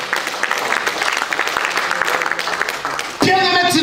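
A church congregation applauds in a broad, steady patter of clapping for about three seconds, then a loud voice cuts in over it.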